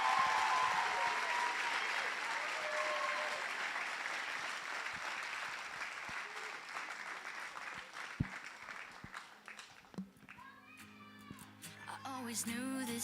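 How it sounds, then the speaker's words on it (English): Sustained audience applause for nursing graduates at a pinning ceremony, loud and steady at first, then thinning out into scattered claps as music begins to rise near the end. "One final round of applause for all of our graduates."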